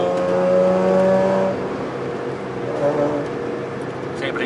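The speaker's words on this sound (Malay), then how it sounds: "bunyi rotary tu berpusing" Rotary-engined car at a track day, engine note steady and loud with strong harmonics for about a second and a half, then settling into a rougher, lower drone that continues to the end.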